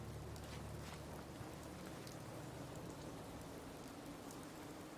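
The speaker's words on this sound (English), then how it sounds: "Hope this rain lets up soon." Steady rain in the Fallout 4 game world, a continuous even hiss of falling drops heard alone with no voices, quiet and unbroken throughout.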